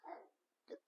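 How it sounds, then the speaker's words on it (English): A dog gives two short barks close by, the second coming just after a brief gap, both fairly faint with no other sound between them. "That's my dog, Frankie."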